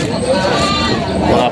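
Goats bleating amid the crowd at a livestock market in Padre Garcia, Batangas, a few wavering cries over a steady murmur of people talking nearby.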